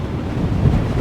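Winter sea waves wash against the Marsa Matruh shore while wind buffets the microphone, giving a steady, loud rumble of surf and gusts with no voices.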